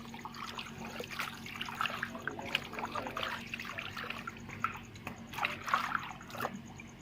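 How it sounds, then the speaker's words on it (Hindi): Cold water poured into hot water while cleaning ojri (tripe), a steady trickling and dribbling stream with small splashes, close and fairly quiet, no talking. "पानी ज़्यादा गर्म हो गया, थोड़ा ठंडा डालेंगे"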